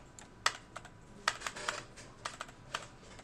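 Keystrokes tapped on a computer keyboard in short, uneven bursts, close and fairly quiet, with a few sharper clacks standing out and no talking.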